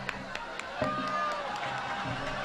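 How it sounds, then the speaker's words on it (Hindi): An audience at an All India Mushaira poetry recital in Zaidpur claps and cheers, a short burst of crowd applause rising after a few scattered claps and mixed with voices. "मजमे से जोरदार तालियां बजाइए तनवीर साहब के लिए भाई"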